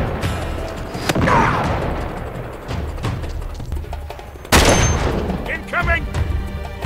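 Gunfire and explosive impacts in the Uncharted video game during a chaotic firefight, with loud bursts and a heavy blast breaking through dense battle noise while characters shout to each other.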